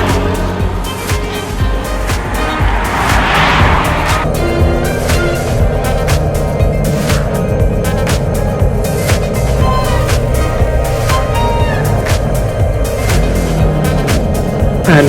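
Royal Enfield Guerrilla motorcycle ridden along a road, a loud, steady engine drone with wind rush throughout, close to the microphone, rising briefly early on and then holding a constant note.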